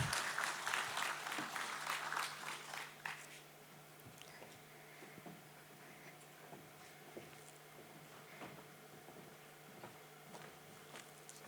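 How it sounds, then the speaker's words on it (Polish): Audience applause at a regional brand award ceremony in the Tatra region: dense, lively clapping for about three seconds, then thinning to scattered, sparse claps that trail off in a quiet hall. "Gromkimi brawami pogratulujmy jeszcze raz pani Monice."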